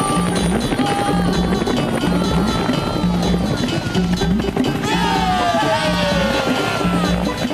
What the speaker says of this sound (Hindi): वो हेलीकॉप्टर इधर ही आ रहा है।